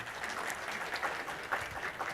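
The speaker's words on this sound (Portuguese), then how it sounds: "virtualmente recebe também nossas calorosas palmas" Applause at a legal panel session sounds as soft, fairly distant clapping from a modest audience, steady and muffled throughout.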